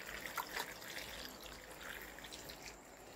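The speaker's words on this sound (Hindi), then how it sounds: "इसमें पानी डाल दी" Water trickles and splashes briefly into a pot for jackfruit pakoras in a village kitchen, a soft pouring sound with a few louder drips near the start.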